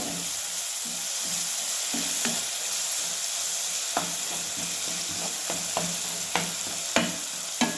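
Okra masala with onion and tomato sizzles steadily in a pan while salt is stirred in. A continuous hiss runs throughout, broken by sharp spatula clicks and scrapes that grow more frequent toward the end.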